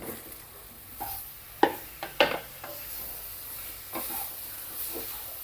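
Cut, cleaned mushrooms tipped into a hot pan for mushroom masala, giving a few sharp clatters and bursts of sizzle around the two-second mark, then a steady soft frying hiss.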